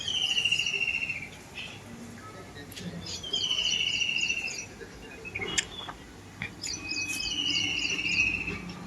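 Outdoors in a village after rain, several birds give repeated high whistling calls over a steady bed of insect chirping, the calls coming in bursts every few seconds at moderate distance.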